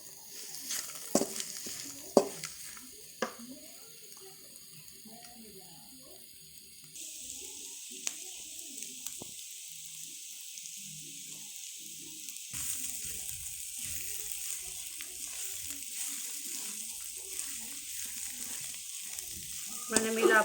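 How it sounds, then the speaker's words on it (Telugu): Tender tamarind leaves fry in a pan, a soft steady sizzle with occasional stirring scrapes and light clinks, faint and close, rising a little partway through. "సో కనీసం ఒక 10 నిమిషాలైనా సరే ఇందులో వేగాలండి, ఆ పచ్చిదనం అనేది పోవడానికి."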